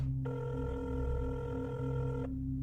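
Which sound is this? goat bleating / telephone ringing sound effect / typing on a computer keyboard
telephone ringing sound effect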